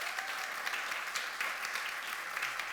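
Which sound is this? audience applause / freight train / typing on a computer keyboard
audience applause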